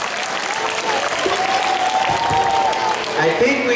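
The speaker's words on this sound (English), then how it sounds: "A huge round of applause for them again." Sustained audience applause after a dance performance at a school farewell function for the principal and manager, with a steady wash of clapping and crowd noise throughout and some voices or a whistle faintly mixed in.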